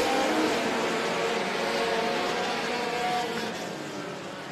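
Sport compact race cars roaring around a dirt track at Davenport, Iowa, a dense, loud, continuous engine drone that fades slightly as the pack moves down the back stretch.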